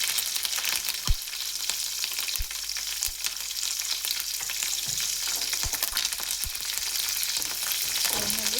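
Green chillies and curry leaves frying in hot oil, a close, continuous crackling sizzle with sharp pops and spits and a few stirring knocks, with no talking.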